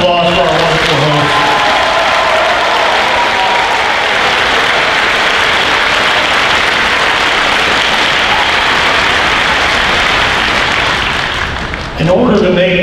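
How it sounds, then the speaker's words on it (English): Big, sustained audience applause with some cheering for the hosts at the 2022 State Summer Games opening ceremonies, a loud, hissing wall of clapping that holds steady for several seconds and fades out as a voice returns at the end. "Let's give a huge round of applause for our wonderful hosts"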